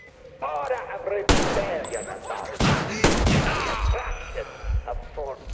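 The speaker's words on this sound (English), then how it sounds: "gunshots in this game really hurt" Gunfire in the Metro Exodus video game: loud bursts of automatic fire and single shots in quick succession, heard with a voice speaking over the shooting.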